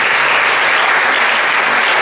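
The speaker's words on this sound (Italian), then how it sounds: "un applauso di benvenuto" Welcoming applause fills an award ceremony for a literary prize, loud, dense and continuous clapping from an audience with no pause throughout.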